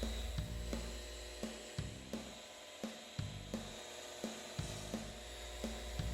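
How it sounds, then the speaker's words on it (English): A shot blaster works across a concrete floor surface, a dense, steady mechanical roar with a hissing spray texture and a faint rhythmic thump recurring about every half second. "the surface is shot blasted to remove dust wand vacuuming could not"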